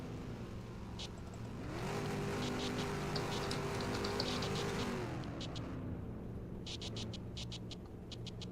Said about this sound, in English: can we please stop the burnouts?